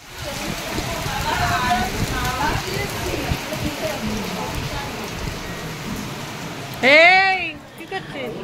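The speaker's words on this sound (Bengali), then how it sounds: "কি মুষলধারে বৃষ্টি নামলো আবার" Heavy monsoon-style downpour pours steadily outdoors with a constant wash of rain noise, while people talk over it and a high voice calls out near the end.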